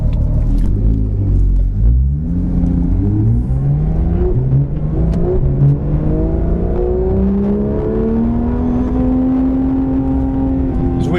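A car pulls out of pit road at PittRace, its engine rumbling low and then revving upward through rising gear pulls, steady and close with a continuous whir.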